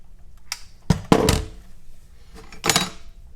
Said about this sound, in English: So now we're safe to remove the lid